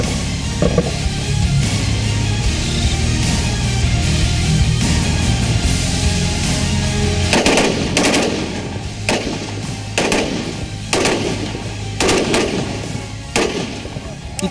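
Machine gun fire during a fire-and-move drill by soldiers at a Sikkim border post, sustained rattling bursts followed by spaced loud gunshot volleys, with talk heard under the firing.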